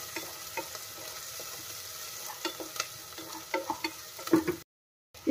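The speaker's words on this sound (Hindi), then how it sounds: "अब इसे चलाएंगे, ये थोड़ा सा सॉटे हो जाए प्याज" Onions sautéing in a pan for a paneer sizzler, a soft steady sizzle broken by scraping and clinking stirs of a spoon, close and fairly quiet, cutting out briefly near the end.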